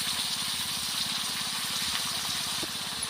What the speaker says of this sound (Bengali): আর এখানে দিয়ে দিব ভিনিগার